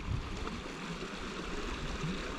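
A mountain creek in the Emigrant Wilderness rushes steadily, a constant close wash of flowing water with no voices.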